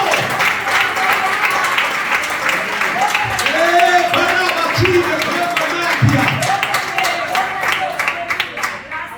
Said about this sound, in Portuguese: Só quem crê, dê um aplauso para Jesus, porque ele é digno.